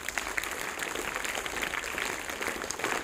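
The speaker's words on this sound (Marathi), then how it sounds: "त्यांच्यासाठी जोरदार टाळ्या व्हायला पाहिजेत" An audience claps steadily at a school function, a dense and even patter of applause that stays faint and distant for its full length, with no voices standing out.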